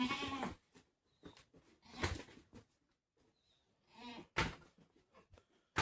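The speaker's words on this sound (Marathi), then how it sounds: "ती शेळी पिण्यासाठी येते तर तिला मारतोय." A goat comes up to drink, bleating in several short, loud calls spread across a few seconds, with quieter shuffling and knocks between the cries.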